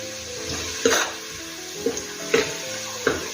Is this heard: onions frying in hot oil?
yes